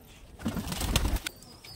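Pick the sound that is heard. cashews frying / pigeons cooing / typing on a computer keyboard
pigeons cooing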